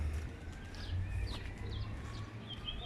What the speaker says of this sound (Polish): Wokół słychać śpiewy ptaków.